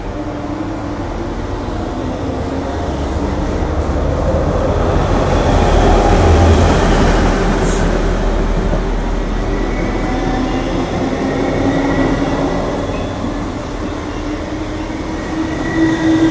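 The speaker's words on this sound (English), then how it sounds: "A non-stop train is passing through the station." A diesel locomotive train rumbles steadily past at close range through a station without stopping, a continuous loud roar of engine and wheels with a faint high squeal partway through.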